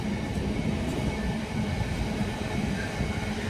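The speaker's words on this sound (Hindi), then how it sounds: "और ये हमारी ट्रेन जो है अभी आई थिंक हमारे पहुंचने तक निकल जाएगी" Train rumbling at a London station, a steady broadband roar of wheels and carriage noise filling the whole clip with no pauses.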